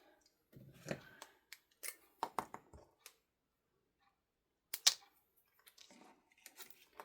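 Scissors snipping through a knot in string on a tag, a cluster of quick crisp cuts and small handling clicks, then another sharp snip after a pause, close and quiet.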